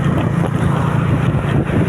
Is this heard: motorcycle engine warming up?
yes